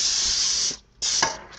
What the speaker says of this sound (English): spray your pan so they don't nothing stick